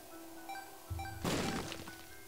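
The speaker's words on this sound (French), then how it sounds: "On va encore claquer une bombe ici." Bomb going off in The Binding of Isaac game: a low thump lands first, then a sharp bright burst of crashing noise follows, alone over a steady tonal game music bed.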